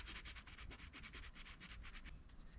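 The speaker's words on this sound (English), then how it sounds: "that tiny little bit of rubbing that sounds so much like there's someone there" Faint, soft rhythmic rubbing of tent fabric stirred by a light breeze at a solo wild camping spot, repeated brushing strokes under quiet ambience with a brief bird chirp.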